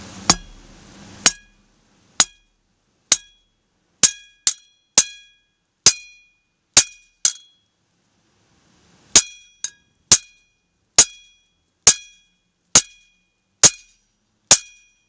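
Sharp metallic hammer blows setting a rivet on a handmade one-handed axe, about fifteen loud, ringing strikes in an irregular rhythm with a pause midway, close and alone with no talk.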